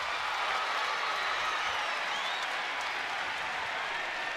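College volleyball crowd in a gym at a South Dakota State versus South Dakota match, a sustained wash of clapping and cheering that stays steady and fairly distant throughout.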